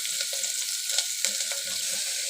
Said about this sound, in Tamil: பிரியாணிக்கு வதக்குற மாதிரி லைட்டாக வதக்கினா போதும்